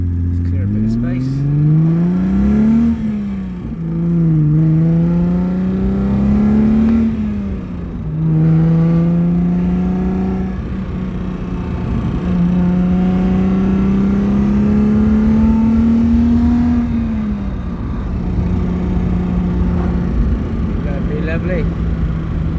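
Alfa Romeo GTV6 Busso V6 engine pulls loudly from inside the car, climbing through the gears in repeated rising sweeps with brief dips at each shift, continuous and close.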